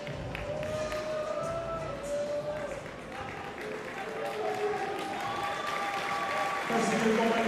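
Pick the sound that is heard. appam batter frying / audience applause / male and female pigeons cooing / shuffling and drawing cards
audience applause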